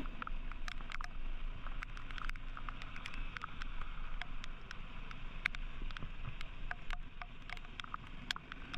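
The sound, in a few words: heavy rain during an off-road motorcycle ride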